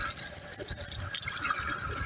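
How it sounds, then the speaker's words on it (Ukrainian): Water gushes from a freshly drilled well being flushed in Hlevakha, Kyiv Oblast, a steady rushing, splashing flow with dripping detail, moderately loud and continuous, with no voices. "тече водичка, вона вже світленька, гарненька"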